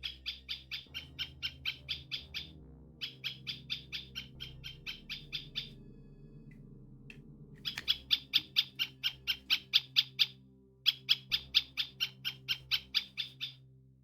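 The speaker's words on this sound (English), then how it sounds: "It's a woodpecker." Woodpecker in the Space Quest IV: Roger Wilco and the Time Rippers (1991) video game, sharp rapid pecking in repeated bursts of evenly spaced taps, growing louder and stronger in the second half.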